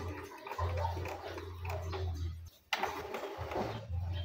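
An Epson M200 printer runs its head cleaning cycle with a low, steady mechanical hum and gurgling pump noises. A brief pause is followed by a sharp click, then the hum resumes, quiet and close.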